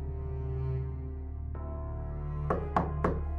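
Three sharp knocks on a door, close and distinct in a quick even rhythm, over a steady low hum in an indoor drama scene.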